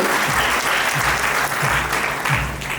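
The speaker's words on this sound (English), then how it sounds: "Can we hear for one round of applause, please?" Round of applause at a teachers' awards ceremony, dense continuous clapping from an audience filling the whole stretch at steady loudness.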